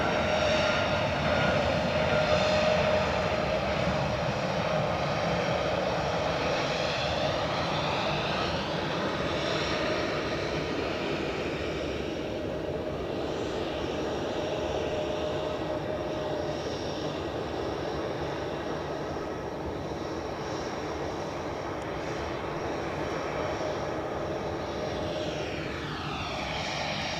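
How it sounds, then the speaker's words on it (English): A British Airways Airbus A319-100 airliner inbound from London Heathrow passes near Edinburgh Airport, a steady loud engine roar and whine that holds for the whole stretch and slowly shifts in pitch as it goes by. "British Airways just passing Newbridge, inbound from London Heathrow"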